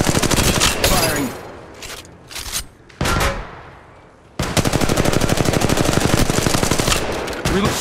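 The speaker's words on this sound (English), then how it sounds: "Shots fired and they're hitting me." Automatic gunfire in the shooter game Apex Legends: loud, close bursts broken by short pauses, then a long continuous rapid-fire stream that runs to the end.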